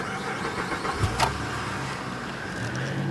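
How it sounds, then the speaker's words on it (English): Close, steady idle of a 2005 Acura RL SH-AWD's J35 engine just after start-up, a broad continuous hum with a brief rise in the middle, no talking. "You can hear that beautiful J35 come to life."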